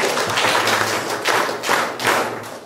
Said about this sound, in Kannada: ಹಾಗಾಗಿ ಅವರು ಜೋರಾದ ಚಪ್ಪಾಳೆ ಹೊಡಿಬೇಕು.